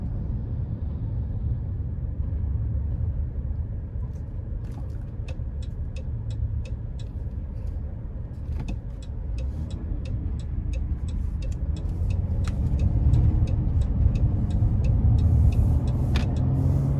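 A 2020 Dodge Grand Caravan SE Plus minivan on the road, with a steady loud low rumble of engine and tires, a rising hum toward the end and a run of faint regular ticks, like a turn signal, partway through.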